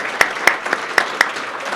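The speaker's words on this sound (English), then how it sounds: "Let's have a round of applause for Steve Damon from Jack Conway Real Estate." Applause at a luncheon welcoming a Santa Claus guest, a steady crowd patter with several sharper nearby claps standing out, moderately loud throughout.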